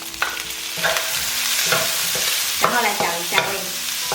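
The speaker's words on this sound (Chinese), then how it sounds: "就可以放入草菇，继续翻炒" Squid and straw mushrooms are stir-fried in a wok, with spatula scrapes and clatters coming in irregular bursts over a continuous close sizzle while a voice talks briefly.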